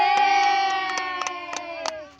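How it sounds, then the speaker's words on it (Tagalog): A church congregation claps in a steady rhythm, with sharp hand strikes spaced roughly a third of a second apart beneath a loud, sustained sung or shouted tone. "Uy, palakpak mga igsoon sa mga."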